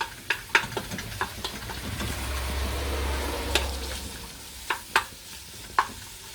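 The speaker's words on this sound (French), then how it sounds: "on fait revenir un petit peu les oignons" Onions sautéing in a pan for a cabbage and pork potée sizzle steadily up close, with repeated sharp clacks of a utensil stirring and scraping the pan over the frying hiss.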